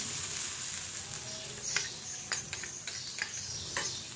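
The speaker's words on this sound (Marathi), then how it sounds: "हे खोबरं आहे, ओलं आणि सुकं दोन्ही मिक्स घेतले। आपण हे चांगलं परतून घेऊ।" Grated fresh and dried coconut, mixed together, roasting in a pan, giving a steady soft sizzle with light scattered ticks and scrapes from stirring, close and alone.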